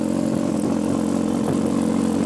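A four-cylinder MV Agusta motorcycle idles steadily nearby, giving a continuous, even mechanical drone with a low diesel-like rumble and no change in revs.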